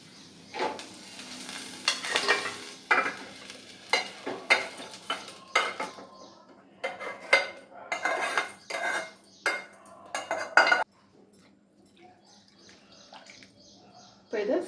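Spoon scraping and clinking against a metal pot as fried okra is stirred into cooked lentils for sambar, a series of close, uneven clatters and scrapes that stop near the end, leaving quiet.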